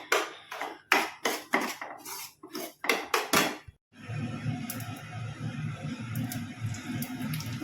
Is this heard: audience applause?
no